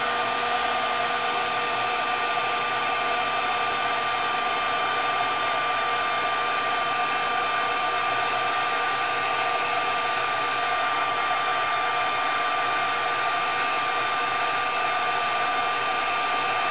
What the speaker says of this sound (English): with the heat tool, I am going to heat this up